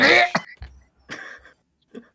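A person in a tabletop role-play game performs a cough as if coughing up blood from a grave wound, giving a few short rough bursts separated by pauses, close and moderately loud.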